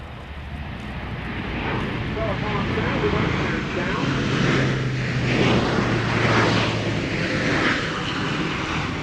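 A military transport aircraft's engines drone loudly and steadily, with a sustained low hum and broad roar that swells slightly toward the middle.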